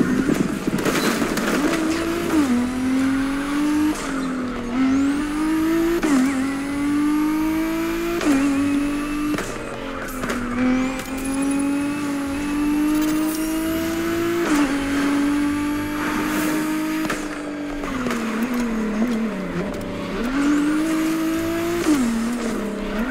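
A Nissan GT-R in the racing game The Crew Motorfest revs hard through repeated gear shifts, the engine note climbing and dropping in cycles with tire squeals, loud and continuous.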